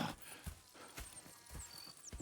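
Horses in the Red Dead Redemption 2 video game, quiet hoof clip-clops in an uneven walking rhythm with a faint snort, heard alone and fairly distant.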